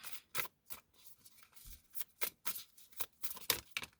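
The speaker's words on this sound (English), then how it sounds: "these cards do not want to come out" Tarot cards being shuffled by hand in quick, irregular bursts of crisp riffling and slapping, close and fairly quiet, with short pauses between flurries.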